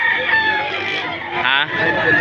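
An 11-month-old Red Kelso gamecock rooster crows at a chicken market in Padre Garcia, Batangas, a loud drawn-out call close by with voices talking in the background.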